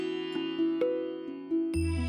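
A phone message notification chime in a Marathi TV serial scene: a few bright, clean tonal dings over a sustained musical bed, with no talking.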